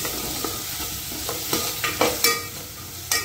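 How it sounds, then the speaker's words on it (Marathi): Potatoes with salt being fried on a slow flame for rava upma, a continuous sizzle with several distinct spatula scrapes and stirring strokes, close and clear. "सो बटाटे घालूनय बरे तळसूप मातशे 2 मिनटां तळसून घेवप बटाटे"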